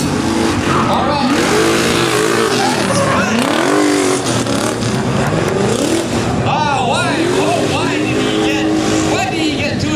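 Drift car number 911 of Team RX at the King of Drift Asia 2015 competition, engine loud and close with rising and falling revs and sweeping pitch swings, tire noise running underneath the whole time.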